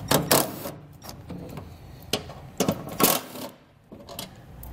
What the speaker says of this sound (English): we're going to take a 10 millimeter socket. We're going to remove the two bolts here on each side.